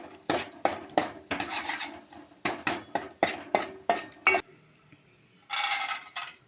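Dry fruits frying in ghee in a pan while a spoon repeatedly scrapes and clinks against the metal, a rhythmic run of close stirring strokes, then a brief pause and a short burst of sizzling.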